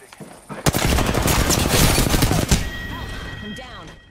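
Sustained automatic gunfire in Apex Legends, a dense rapid burst lasting about two seconds, then tapering into softer clicks and electronic tones.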